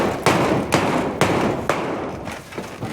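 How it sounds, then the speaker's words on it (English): Four heavy, evenly spaced hammer blows ring out close by, each a sharp impact followed by a lingering decay. "I need the hammer to get her started."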